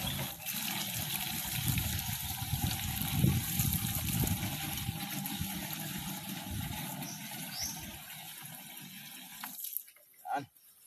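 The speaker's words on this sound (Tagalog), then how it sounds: "Lulubog mo yung timba at hatakin." A bucket is lowered and hauled up from a rural well in the Philippines, using a bamboo pole weighted with a stone: steady splashing, pouring water runs throughout, then cuts off near the end with a few brief knocks.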